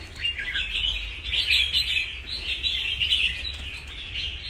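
Wild-caught pet songbird chirping close by, bright bursts of high warbling song that rise and fall in quick phrases over a low background hum.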